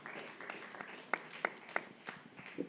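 A studio audience at a televised health quiz on HIV/AIDS and STIs gives scattered, light applause for the contestants: a handful of separate sharp claps in an uneven rhythm, fairly faint and a little distant.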